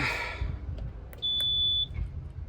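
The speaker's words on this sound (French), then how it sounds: "le Garmin s'allume bien" A Garmin GPS unit gives a single clear electronic beep of about half a second as it powers on during pre-flight checks after winter, over faint background rumble.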